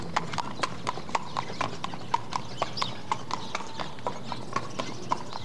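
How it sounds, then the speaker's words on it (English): Horse-drawn carriage hooves at the Alcazar in Seville clip-clop in a steady, even rhythm on the pavement, close and clear, with faint voices in the background. "They come in here with the carriage."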